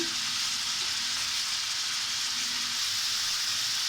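Spice paste sizzling and frying in a pan for mustard hilsa, a steady, loud hiss that holds evenly throughout with no speech.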